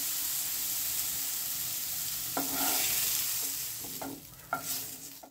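Potatoes frying with turmeric in a pan, a continuous sizzle broken by a few stirring scrapes and knocks toward the end, no speech.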